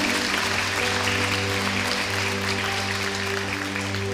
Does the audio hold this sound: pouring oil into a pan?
no